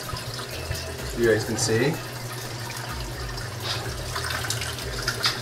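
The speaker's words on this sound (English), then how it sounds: "So you can just see with all the nice water movement going on here, going over into the overflow boxes." Water in a saltwater reef tank spilling over into the overflow boxes, a steady close trickling and gurgling flow while someone speaks briefly over it.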